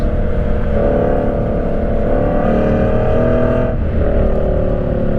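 A Lexus RC F with a loud exhaust roars up through the revs, then blips sharply on downshifts, the engine note rising and dropping twice in a loud, close cabin drive.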